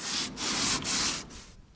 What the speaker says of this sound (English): We're getting close to the end of the sanding now